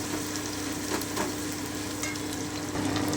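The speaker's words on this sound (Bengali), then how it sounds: "আমি হালকা ব্রাউন করে ভেজে নিচ্ছি" Chopped onions fry in a pan over lowered heat, browning lightly for a Hariyali chicken curry, giving a steady close sizzle with faint stirring scrapes throughout and no talking.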